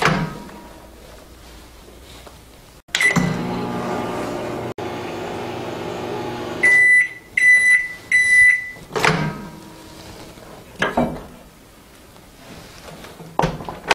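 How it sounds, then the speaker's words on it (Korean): A microwave oven heating seaweed flakes hums steadily for several seconds, then a few sharp electronic beeps sound, followed by a door clunk and quieter room noise. "전자레인지에 30초만 돌려줄게요"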